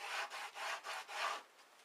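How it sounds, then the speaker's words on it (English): A screwdriver scrapes dirt out of a crack in a Land Rover Discovery's sun visor, giving five close, rhythmic rubbing strokes of roughly equal length that fade away at the end, with nobody talking. "we'll just do the old screwdriver in the crack."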